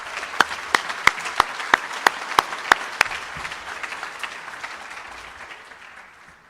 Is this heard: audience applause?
yes